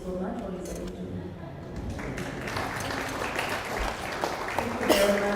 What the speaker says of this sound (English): Another round of applause for Rose.